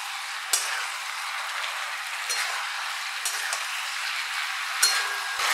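Vegetables for a black-cumin-paste vegetarian curry are stirred in a frying pan, giving a steady hissing sizzle with a few sharp scraping knocks of the spoon spread across it.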